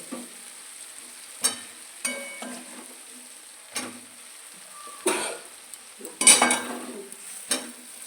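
Potatoes frying with spices in a pan: short bursts of stirring and scraping with a soft sizzle, spaced irregularly over a quiet background, fairly close.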